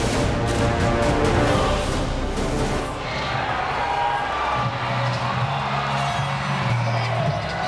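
Arena crowd cheering at a martial arts event, a dense, steady roar of many voices and whoops, loud and sustained, easing slightly partway through as a low musical drone enters beneath it.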